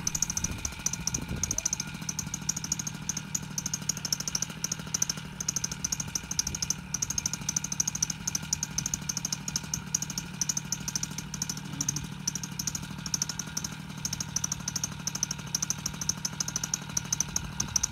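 The engine on a lightweight Ozone Spyder paramotor fires up and settles into a steady, buzzing run, loud and close, with a fast mechanical clatter that holds throughout.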